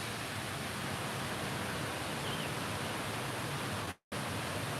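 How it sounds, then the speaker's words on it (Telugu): Heavy rain pours steadily in Guntur, a dense, even hiss with no letup, cut by a brief dropout near the end. "జోరుగా కురుస్తుంది వర్షం"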